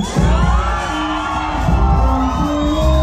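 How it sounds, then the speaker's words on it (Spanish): A loud outdoor crowd at an annual town fair in Santa Cruz Teoloyucan cheers and whoops over booming music, with shouts and a sharp bang near the start, dense and continuous. "y el aplauso fuerte para que adorne este sueño que se llama San San."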